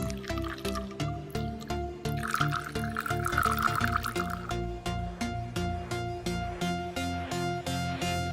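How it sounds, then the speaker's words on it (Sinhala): Water poured into a jar of sliced cucumber, mint leaves, lemon slices and ginger for detox water, a steady liquid trickle with dripping and filling sounds, fairly close and continuous against a soft musical background, no talking. "දැන් අවශ්‍ය ප්‍රමාණයට වතුර එකතු කරන්න."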